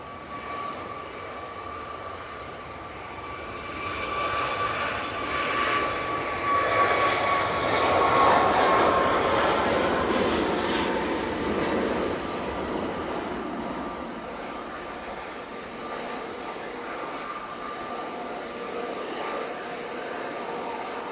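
An Embraer ERJ jet landing roars steadily from a moderate distance, its engine noise swelling to a peak midway through and then slowly fading as it rolls out, with no voices.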